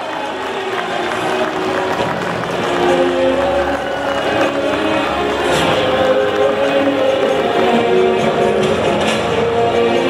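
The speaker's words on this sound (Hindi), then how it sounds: "एक बार जोरदार तालियां हो जाए।" Loud, sustained crowd applause with some cheering at an inauguration of national highway projects by Union Transport Minister Nitin Gadkari, a thick continuous roar of clapping that swells slightly and holds for about ten seconds.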